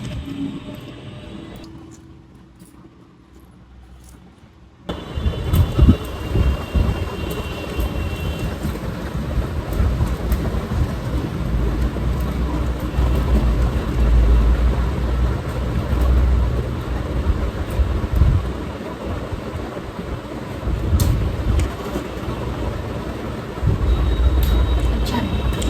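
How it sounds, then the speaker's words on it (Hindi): An electric fan switches on in a home kitchen after a few quiet seconds, then holds a steady, close, airy whoosh with a low hum that runs to the end, with light clatter now and then. "इसीलिए फ़ैन ऑन कर लेती हूँ।"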